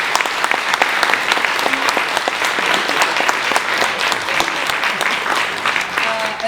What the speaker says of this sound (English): let's do a quick round of applause